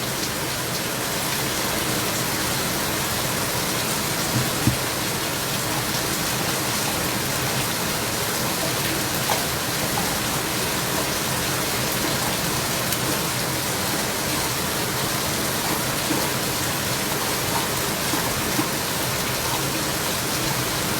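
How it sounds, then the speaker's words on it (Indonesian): Steady night rain falls without a break, a dense, even hiss of drops hitting surfaces, loud and constant, with only a few faint isolated taps standing out. "di sini baru turun hujan"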